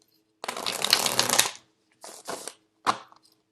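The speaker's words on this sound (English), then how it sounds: "the cards are very thick and stiff, so it's really hard to shuffle" A new, thick, stiff tarot deck is shuffled close up, one long riffle followed by two shorter crisp bursts of card flutter, with quiet pauses between them.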